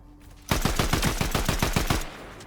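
Rapid burst of about ten sharp gunshots from a hunter rifle in the video game Fortnite, loud and close, firing in quick succession for about a second and a half with no talk.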